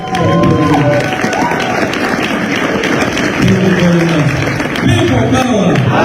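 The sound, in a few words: crowd applause and cheering at rally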